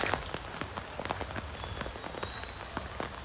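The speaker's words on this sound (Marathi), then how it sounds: "खूप पाऊस आहे मित्रांनो, खूप पाऊस आहे." Heavy rain pours outside a workshop, a dense hiss of drops pattering on surfaces with scattered louder splashes, steady and close throughout.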